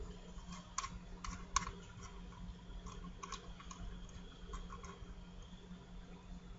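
Typing on a computer keyboard while writing C# code for a temperature-conversion program, with scattered soft key clicks and a few sharper taps over a low steady hum, fairly quiet and without speech.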